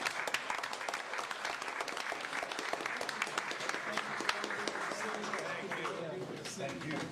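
A round of applause at a Largo city commission meeting: steady, dense clapping from a room of people that carries evenly from start to finish without pause.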